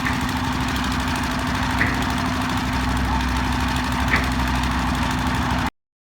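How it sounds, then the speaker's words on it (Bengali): A launch boat's engine runs at a steady, loud, low idle throughout, with a faint tonal hum and no breaks until it cuts off abruptly near the end. "এটা আবার এখন ইঞ্জিন স্টার্ট দেওয়া হইব"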